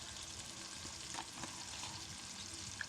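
Steady frying sizzle as turmeric, coriander, Kashmiri chilli powder and salt are stirred into tomato masala for dhaba-style potato sabzi, with a few soft spoon scrapes against the pan and no voices.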